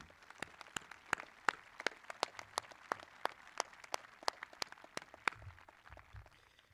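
Scattered clapping from a modest crowd at a school graduation ceremony, with sharp individual claps at an uneven rhythm for several seconds and no talk over it.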